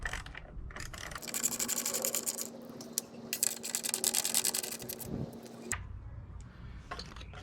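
Radiator fan bolts on a 2004 Nissan Sentra are backed out with a ratchet, giving a close, steady run of fast clicking and whirring that lasts several seconds amid light handling noise.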